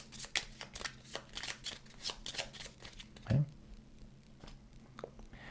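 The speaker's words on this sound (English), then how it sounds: "Next, you're going to give your rival cards a good shuffle." Cards being shuffled in repeated quick riffling bursts, close up, with a louder thump near the middle and a few softer ruffles after.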